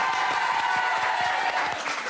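Studio audience applause on a French reality-TV magazine show, a dense, steady wash of many hands clapping at full volume throughout.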